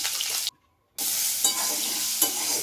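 Sizzling oil and stirring as raw mango pieces and salt go into fish eggs frying with five-spice, steady crackle broken by a short silent gap, then louder frying with occasional bursts.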